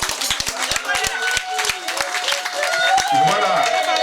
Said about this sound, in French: Merci beaucoup pour les applaudissements.